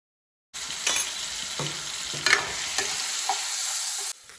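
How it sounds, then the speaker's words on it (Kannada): Onions fry in about three tablespoons of oil in a pan for a pudina chicken dish, with a steady close sizzle and occasional scraping stirs that start abruptly and cut off at the end. "ಒಂದು ಪ್ಯಾನ್ಗೆ 3 ಟೇಬಲ್ ಸ್ಪೂನ್ ಅಷ್ಟು ಎಣ್ಣೆ, ಈರುಳ್ಳಿ ಹಾಕೋಣ"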